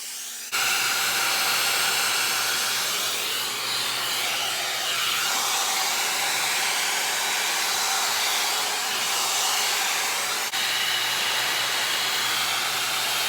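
A brush hair dryer blows at a steady, loud, close hiss and whoosh, running continuously without pause and with no speech over it.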